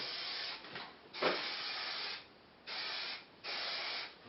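An aerosol spray paint can hisses in several bursts of about a second each, with short pauses between them, close and steady, used for experimental fanzine printmaking.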